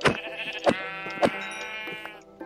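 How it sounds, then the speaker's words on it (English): Sheep bleating in the Minecraft video game, several short wavering bleats in quick succession, close and clear with no talk over them. "actually, there's some sheep here, so I can just kill a few of them"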